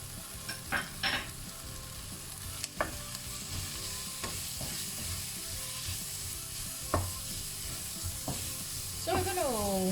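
Onion browning with minced garlic in a hot pan for braised beef cheek, a constant close sizzle with occasional utensil scrapes and clinks, plus a brief whistling tone near the end.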